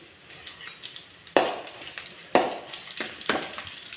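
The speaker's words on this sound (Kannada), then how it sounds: "ಎಣ್ಣೆ ಬಿಸಿ ಆಗ್ತಾ ಇದ್ದಂಗೆ ಇದಕ್ಕೆ ಸಾಸಿವೆ ಹಾಕೋತಾ ಇದ್ದೀನಿ" Mustard seeds, garlic and urad dal frying in hot oil for a tempering, with sharp sizzling bursts as each ingredient hits the pan, then a crackling, popping hiss that rises and fades in waves.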